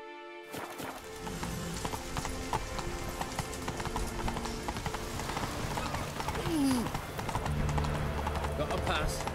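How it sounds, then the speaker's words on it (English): Hooves of a horse trot steadily in The Witcher 3: Wild Hunt, a rhythmic clip-clop that runs throughout under a voice and game sounds, with a brief whinny partway through. "Whoa there, Roach."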